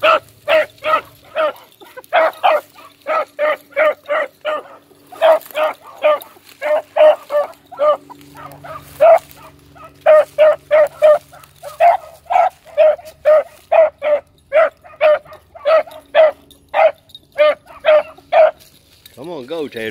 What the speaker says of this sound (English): He don't necessarily want to go with them females just because they're barking.